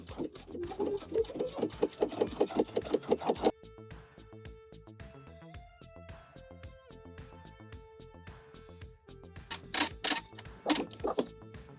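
Sewing machine fitted with an adjustable bias binding foot stitching binding onto fabric, a fast rhythmic needle chatter in bursts that stops, then slower stitching alongside quieter mechanical clicks, then a louder burst resumes.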